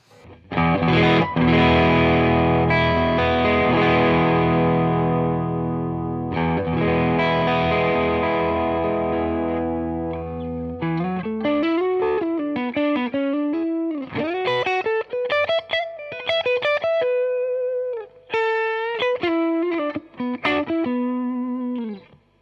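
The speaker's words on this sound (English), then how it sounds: "Yep, it's that classic Tube Screamer into a Fender amp sound." Electric guitar through an Ibanez TS808 Tube Screamer reissue into a Fender amp, warm overdrive, first sustained strummed chords, then a run of single-note bends and licks, loud and continuous with no talking.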